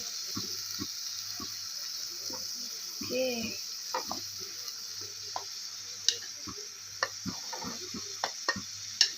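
Potatoes stirred in a frying pan, with sparse clicks and scrapes of a spoon over a faint background hiss, close and fairly quiet.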